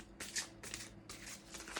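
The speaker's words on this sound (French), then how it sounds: "Je vais tirer une carte pour la féminine" Cards from an oracle deck being shuffled and drawn, three soft papery bursts of riffling in quick succession, close and quiet, with no talking.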